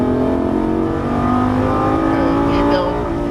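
A race car on the Las Vegas Speedway track accelerates with a steady, loud engine roar that rises slightly in pitch, and faint voices are partly buried under the engine.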